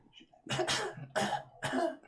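A woman coughs in the distance: three quick, harsh bursts heard faintly and alone, with short pauses between them.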